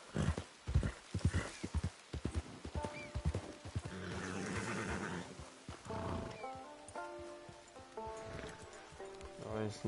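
Horse in an outdoor wild setting, with quick clip-clop hoof beats and a whinny mixed among animal cries and rustling, partly under someone talking.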